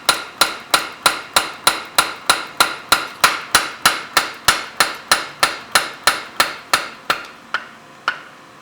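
A blacksmith hammers steel for a kogatana knife on an anvil, drawing it out to set width and thickness: a loud, close, evenly paced series of about two dozen ringing strikes, slowing to a few final blows with no talk.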